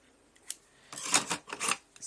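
Scissors snip through paper during a children's Easter card craft, several short crisp cuts in quick succession, close and fairly quiet.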